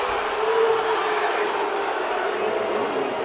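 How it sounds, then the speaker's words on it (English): A basketball arena crowd at an Auburn versus Texas game roars and grumbles in a steady, loud wash of voices after a foul call, with no lull across the few seconds. "Crowd really upset that there was no foul called"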